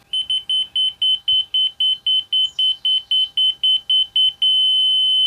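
A laser alignment tool emits rapid, evenly spaced high-pitched beeps that speed up, then merge into one continuous steady tone, while aligning deck handrails.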